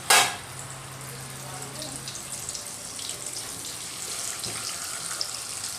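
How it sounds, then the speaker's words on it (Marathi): Mackerel (bangda) pieces fry in hot oil over a medium gas flame, a soft continuous hiss and crackle after a brief sharp burst at the start as the fish goes in; no talking. "आता आपण मासे तळून घेऊया."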